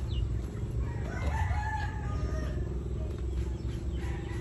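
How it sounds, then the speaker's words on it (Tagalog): A rooster crows at a distance over a steady low hum and background noise, with faint clucking from nearby chickens. "Ayun na, mga manok."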